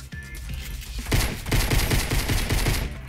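Rapid bursts of pistol fire in the video game Fortnite, a quick run of sharp repeated shots starting about a second in and continuing in loud, evenly spaced cracks.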